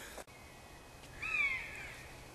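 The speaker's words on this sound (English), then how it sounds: "We can hear a bird of prey above us." A single drawn-out, high-pitched call from a bird of prey rings out overhead in New Forest woodland near Brockenhurst, faint and distant, above a quiet outdoor background.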